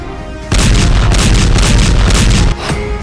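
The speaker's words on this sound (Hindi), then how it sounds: "धमाके का पहला वीडियो" A sudden, heavy explosion erupts into a deep, roaring rumble that holds for about two seconds before cutting back to quieter background noise.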